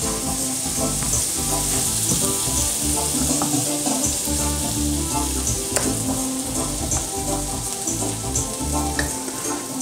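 Onion and garlic fry together in butter with a steady, dense sizzle and occasional stirring scrapes, close and continuous throughout with no voices.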